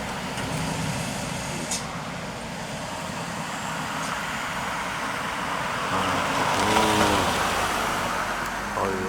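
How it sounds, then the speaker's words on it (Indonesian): A light engkel truck rumbles along the narrow Cijatem road in Sukanagara, its engine droning steadily and swelling as it draws nearer, with other traffic noise around and no talking. "Itu lagi lur, kita kedatangan mobil engkel."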